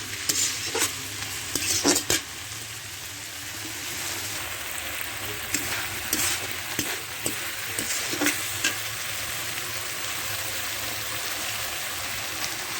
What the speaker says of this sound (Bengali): এইভাবে কষিয়ে নিতে হবে।